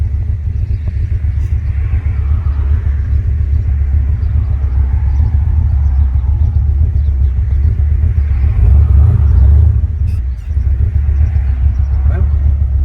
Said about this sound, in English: So we're going to take this Corvette for a test drive and see how it does